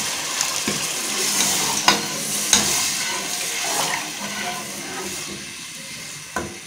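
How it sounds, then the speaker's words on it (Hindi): Water poured into frying masala for egg kofta curry in a pan, giving a steady sizzling hiss with stirring, a few sharp spatters and clicks standing out, close and moderately loud with no talking. "अब हम इसमें थोड़ा सा पानी ऐड करने लगे हैं।"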